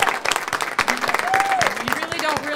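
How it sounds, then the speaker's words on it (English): A church congregation applauds and cheers, with steady clapping running throughout, whoops and voices mixed in, and people talking over it. "Stand up and give them a round of applause."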